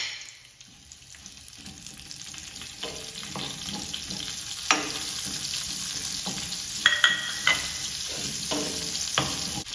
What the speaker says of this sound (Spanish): freímos la cebolla.